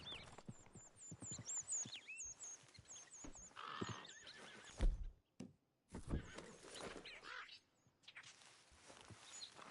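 A horse whinnies and neighs repeatedly up close, mixed with clip-clopping hooves, a heavy thunk and brief silent gaps, with faint birds behind.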